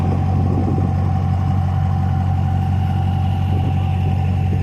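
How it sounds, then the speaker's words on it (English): A show truck idles steadily at a truck show, a loud, continuous low engine rumble with a constant hum and no talking over it. "this truck sounds good, guys"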